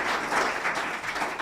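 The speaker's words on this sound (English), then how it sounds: "I want to give them a round of applause." Audience at a 2015 Affordable Care Act panel discussion clapping for the panelists, a brief burst of dense applause from a room full of people.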